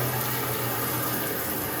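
Water gushes steadily from a leaking pipe during a house renovation in Croatia, a continuous loud hissing rush with no break and no talking.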